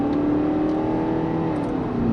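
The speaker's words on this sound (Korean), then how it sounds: "이렇게 가속을 할 때도 굵은 소리보다는 조금 가는 느낌을 주는 그런 소리가 들립니다." A 2016 BMW X1 xDrive 20d diesel pulling under acceleration at a driving centre, a steady, fairly thin engine note with a slowly rising tone, continuous and close with no talk.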